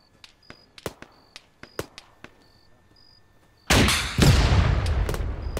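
In a video game, about ten sharp, separate gunshots crack at an uneven pace before a much louder, sustained burst of blasts takes over and rolls on to the end.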